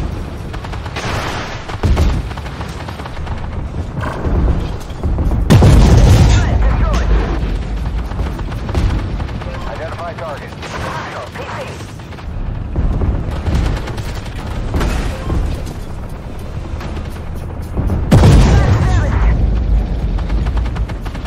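Tank cannon fire in a combat video game, including a T-14 with a 152mm gun, K-21 and XM-103: repeated heavy booms and rumbling blasts under ongoing talk.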